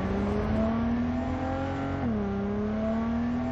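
A car engine in Cyberpunk 2077 revs steadily with a deep, thick drone, its pitch climbing slowly, briefly dipping around midway, then holding again, loud and continuous with no talking.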